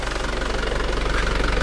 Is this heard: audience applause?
no